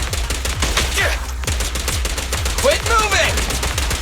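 Rapid bursts of gunfire from the action game Zenless Zone Zero rattle in quick rhythmic volleys, loud and close, while a voice shouts briefly in between.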